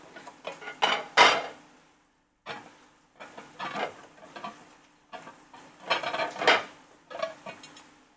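American-style stir-fried rice is scooped from the pan onto an open plate, a run of close metallic scrapes and clinks in irregular bursts with short pauses, over a faint low hum, no voices.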